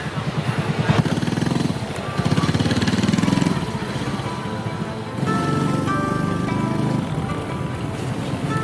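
A small 100cc moped engine drones steadily while riding in Vietnam, its pitch rising and falling with throttle changes, heard up close with wind noise.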